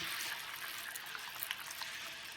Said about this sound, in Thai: ตอนนี้น้ำเดือดแล้วนะคะ